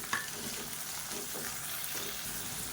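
Chopped onion sautés in a pan for idli upma, a steady, quiet sizzle of frying with faint stirring sounds throughout, no voices.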